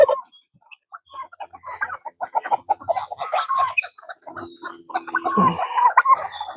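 Several roosters cluck and murmur nearby in quick, irregular bursts, growing busier toward the end.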